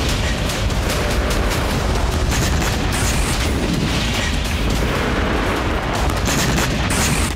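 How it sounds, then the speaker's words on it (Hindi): Explosions from a drone attack in Eilat, heard as dense, continuous booming and crackling rumble with no clear gaps, loud and sustained throughout like close heavy blasts and gunfire-like bursts. "इसमें धमाके की आवाज बता रही है कि कितना विध्वंसक हमला था"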